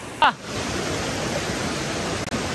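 A broad, steady rush of water from a mountain river in Nepal, where people are about to cross it, fills the whole stretch at an even level, with one brief sharp knock near the start.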